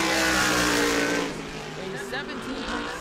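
A race car qualifying at New Smyrna Speedway drones past at speed, loud and close at first and then fading as it moves away, while a commentator talks over it.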